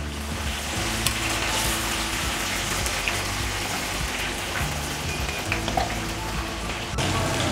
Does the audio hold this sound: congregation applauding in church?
no